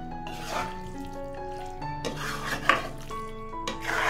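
Pepper chicken with a splash of boiling water being mixed in a cooking pot, giving soft, uneven scraping and rubbing strokes with a few sharper clinks, set against steady tonal background music and no speech.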